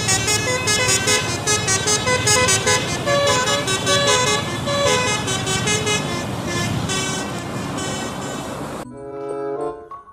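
A bus passing on an Indonesian road and blaring a loud musical multi-tone horn, a long melodic honking sequence over traffic rumble that ends abruptly.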